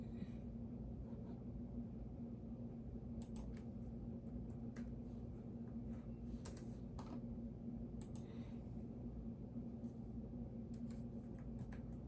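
A Java program is typed on a computer keyboard, with scattered, faint key clicks in irregular short runs over a steady low hum.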